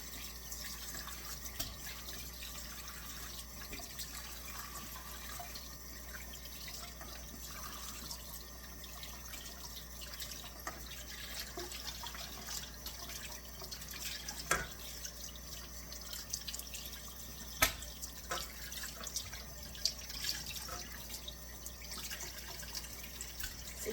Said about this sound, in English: I'm going to be rinsing the pieces off,